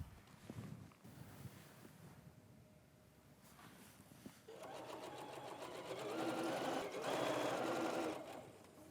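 Sewing machine stitching a fabric tote bag, its motor starting softly and building into a steady, fast, loud whirring run before easing off at the end.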